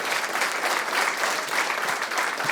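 Sustained audience applause for a poet at an academic panel on Central American independence, dense and steady clapping throughout with no voices on top.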